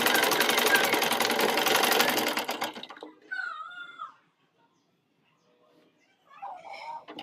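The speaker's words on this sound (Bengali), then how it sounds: "যে কারণে আমি চিকন করে সেলাই করব।" Sewing machine stitching newborn baby cloth with a fine narrow seam, running in a steady loud rattle for under three seconds, then stopping as a voice talks over quiet gaps.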